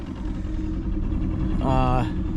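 A Glastron speedboat engine idles steadily with a low, even rumble throughout, outdoors on the water, with a brief higher tonal sound rising near the end over the engine.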